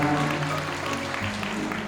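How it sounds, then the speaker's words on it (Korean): A wedding crowd claps steadily for a couple of seconds, a dense, sustained patter of hands in a room with some background murmur and music. "네, 축하 박수 부탁드리겠습니다."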